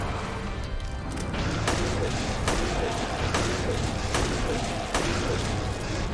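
Repeated gunshots in the Silent Hill 3 video game crack out at regular intervals, about half a dozen sharp reports over a constant noisy background.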